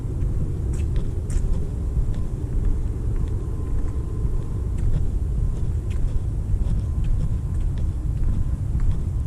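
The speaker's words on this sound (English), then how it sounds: "So they are testing jet engines." Distant jet engines under test on a late night, a steady low rumbling roar that holds throughout, heard from afar outdoors during a walk in Dallas.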